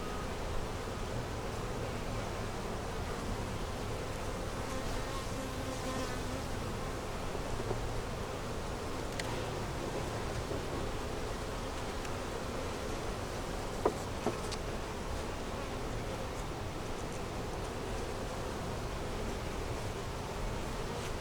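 Honey bees buzz around an open double deep 8 frame hive during an inspection, a faint, continuous hum with a few soft clicks and rustles of frames handled nearby.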